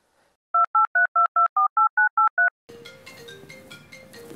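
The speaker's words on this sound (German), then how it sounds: "Du wirst jetzt noch Big Shark anrufen" On a telephone, a short run of about ten evenly spaced touch-tone dialing beeps, loud and clean, gives way to a continuous ringback or line tone with background noise.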